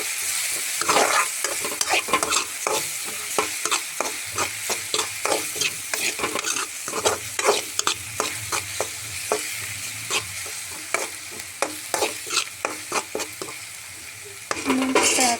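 Stir-frying in a pan before chillies go in, with rapid, irregular scrapes and clanks of a spatula against metal over a soft sizzle, close and continuous.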